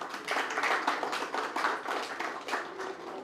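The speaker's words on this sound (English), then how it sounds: "Let's give them a round of applause." Audience applause for members of a security panel at a conference, a steady wash of many hands clapping at moderate, slightly distant level with no talk.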